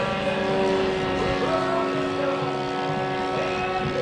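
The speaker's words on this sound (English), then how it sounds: "Still, Snoopy flies at relatively low airspeed, so when he flies into the wind, he has almost no ground speed" A Snoopy flying dog house model aircraft at an air show drones with a steady, loud buzzing propeller engine tone, slightly wavering in pitch as it flies past at low airspeed.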